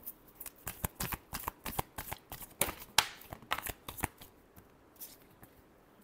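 Tarot cards are shuffled close up in a rapid run of crisp riffling bursts, with brief pauses between them and no speech.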